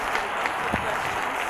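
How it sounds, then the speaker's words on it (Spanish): Audience applause at a live debate event, a steady wash of clapping lasting the whole short stretch, moderately loud and even, with a voice briefly audible in the middle. "un enorme aplauso a los grandes"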